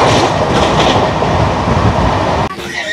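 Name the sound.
train arriving at station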